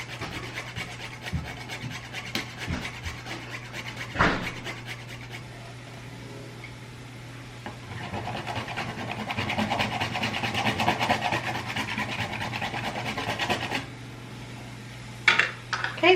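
Whole nutmeg is rasped against a grater in a home kitchen for a 1950s-style dinner, a steady close scratching of repeated strokes that swells louder near the middle. A few sharper knocks break in near the end.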